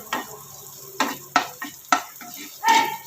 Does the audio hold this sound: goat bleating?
no